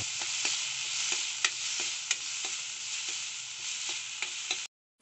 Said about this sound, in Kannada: ಸ್ವಲ್ಪ ಇಂಗನ್ನು ಹಾಕಿ ಚೆನ್ನಾಗಿ ಫ್ರೈ ಮಾಡಿಕೊಳ್ಳಬೇಕು